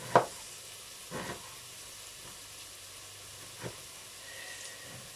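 Vegetables frying in a multicooker give a soft, steady sizzle and hiss, broken by a few louder clinks and stirring knocks from a utensil.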